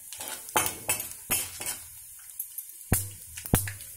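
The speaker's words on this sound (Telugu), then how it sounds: "పోపు చిటపట మారుతుంది" A tempering of urad dal, cumin, mustard seeds and curry leaves in a pan for drumstick-leaf fry, heard as sharp metallic clinks and scrapes of a spoon against the pan, spaced irregularly over a faint sizzle.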